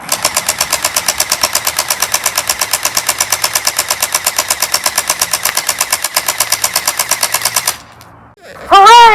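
A TANSAR gel blaster fires in a fast, even full-auto stream of rapid clicking shots for about eight seconds. It then stops abruptly and a voice follows.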